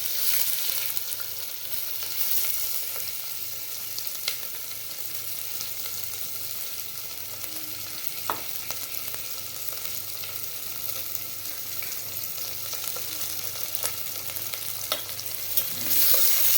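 Steady sizzling of onions frying in oil, with faint scrapes of stirring now and then, continuous and fairly close.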